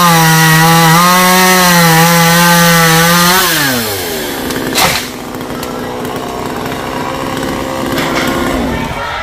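A chainsaw works through the branches of a rain tree outdoors, its engine whining at high revs, then dropping in pitch as the load comes on, with a sharp crack midway and a steady lower drone after.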